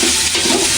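Garlic hits hot oil in a pan and gives a loud, close, continuous sizzle with a stirring scrape, brief and alone.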